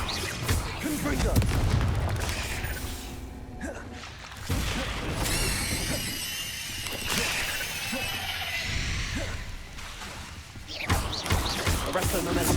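Confringo spell blasts in Hogwarts Legacy, dense booming bursts and crackling impacts rolling one after another, with a voice talking over the combat.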